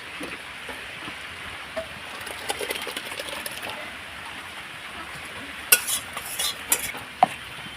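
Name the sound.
stirring spice mix with coriander leaves in pot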